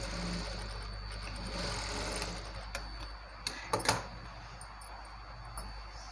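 A sewing machine stitches a can-can lehenga with a low, steady motor hum, then a few clicks and clacks of the machine and fabric handling toward the middle.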